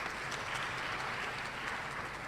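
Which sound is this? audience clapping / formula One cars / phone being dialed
audience clapping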